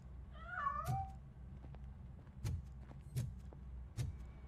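A cat meows in the Robocop: Rogue City video game, one wavering, drawn-out meow early on, followed by several short, sharp sounds over a low background hum, fairly faint and with no talking.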